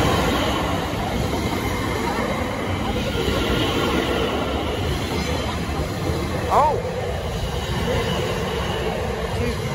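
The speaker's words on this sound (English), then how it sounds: "I think that's the train coming." A train rolls through a level crossing at Highams as a loud, continuous rumble with one brief wheel squeal, and a voice briefly exclaims nearby.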